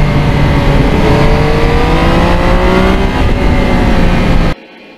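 A 2020 Yamaha MT-09 crossplane triple motorcycle engine pulls hard on a winding elevated road, its loud, steady drone rising in pitch through the gears before cutting off abruptly near the end.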